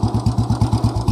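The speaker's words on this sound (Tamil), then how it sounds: "ஓடுது வண்டி, நின்று ஓடுதுங்க வண்டி, எந்த பிரச்சனையும் இல்லைங்க." A 2002 Royal Enfield Bullet motorcycle idles close by in a steady, even thump, about nine low beats pulsing through the whole short stretch.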